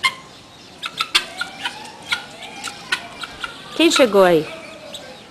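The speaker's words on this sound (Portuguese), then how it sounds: "É a galinha Cocoia. da Angola." Guinea fowl clucking and calling in a Brazilian farmyard, a scatter of short sharp clucks then a loud harsh rattling burst near the end, with a person speaking briefly over it.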